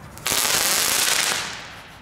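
Category 1 firecracker set off in a residential street: a sharp crackling burst that erupts suddenly, rattles on loudly for about a second, then fades out.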